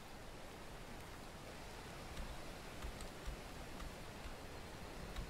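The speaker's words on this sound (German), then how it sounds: "Aber man hört den Regen" Rain in the farming game SunnySide falls as a steady, soft hiss at low volume, with a few faint drop patters scattered through it.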